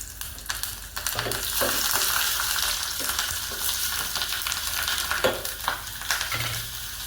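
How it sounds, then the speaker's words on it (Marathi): Curry leaves and three or four green chillies crackle and spit in hot tempering oil for khaman dhokla, a dense continuous sizzle with occasional stirring sounds and no voices. "आता कढीपत्ता टाकूया तर त्याच्यात हिरव्या मिरच्या टाकूया तीन चार"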